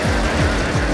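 A car's engine in the Forza racing game surges loudly in three quick repeated revving sweeps as the vehicle flips over, close and with no voices.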